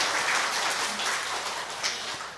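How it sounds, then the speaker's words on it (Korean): A brief burst of group clapping from a church congregation during a health exercise session, steady and fairly loud for a couple of seconds. "박수."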